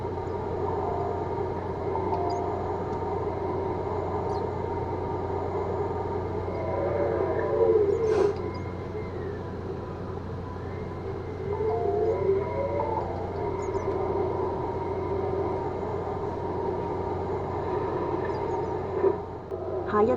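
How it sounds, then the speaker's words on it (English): A train in an MTR video game rumbles past with a steady mechanical drone, a brief squeal and a couple of rising tones along the way, no voices. "And here's another train right here."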